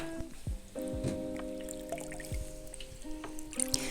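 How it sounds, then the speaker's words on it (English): A wool blanket pushed into cold water with delicate detergent, making close wet swishes, gurgles and drips that come in short bursts, no talk. "add a small amount of delicate laundry detergent to some cold water, give it a stir, and then submerge your wool blanket into the water"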